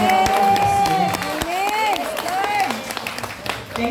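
Audience applause at a Breast Friends Davao recollection and Christmas party, sustained clapping and cheering from a crowd with a voice and music-like tones running over it.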